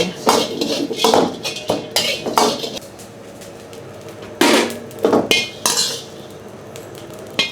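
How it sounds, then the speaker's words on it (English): Dried shrimp roasting in a pan, heard as bursts of metallic clinks and scrapes of a utensil against the pan in quick clusters, separated by quieter pauses; close and fairly loud, no talking. "We roast dried shrimp first, only a few minutes."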